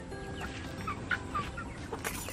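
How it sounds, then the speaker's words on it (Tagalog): Several chickens cluck softly in short scattered calls over a steady background hiss, somewhat distant. "Yan na yung mga manok."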